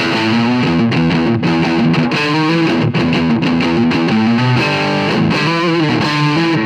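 A 1985 Gibson DC400XPL electric guitar played through its middle pickup with heavy distortion, chords and riffs ringing loud and continuous with no talking.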